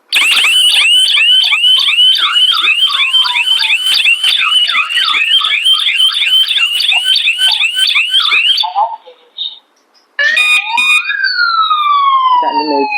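A gas detector's loud electronic alarm, set off by lighter gas, warbles rapidly and continuously, stops abruptly, then a synthesized voice begins speaking over further tones.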